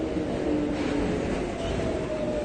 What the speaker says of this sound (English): Here's the train anyway.